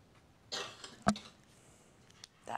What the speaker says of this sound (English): That cough sounds nasty.